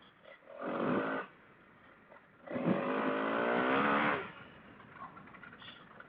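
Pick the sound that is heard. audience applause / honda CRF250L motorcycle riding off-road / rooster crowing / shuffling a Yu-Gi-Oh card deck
honda CRF250L motorcycle riding off-road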